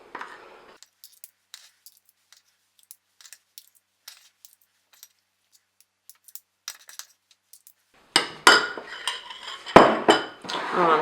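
A metal spoon scoops rainbow-coloured muffin batter from bowls, making light scattered clinks and taps against the dishes, followed by a louder stretch of busier scraping and clattering near the end.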